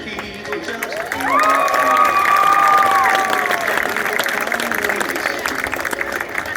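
A crowd at a Lee High School centennial event applauds and cheers steadily for past kings and queens, with a whistle rising above the clapping.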